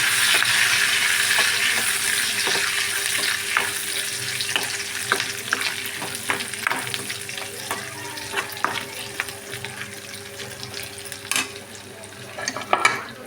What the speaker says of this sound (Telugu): కరేపాకు వేస్తున్నానండి జీలకర్ర చిన్నించాయ కూడా దంచి వేసిస్తానండి